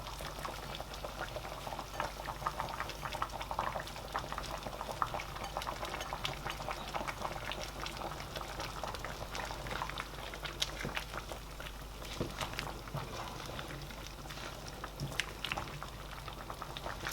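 Nigerian oha soup with uziza leaf boils steadily in a covered pot, giving a continuous soft bubbling and popping texture that stays even and close throughout, with no talking.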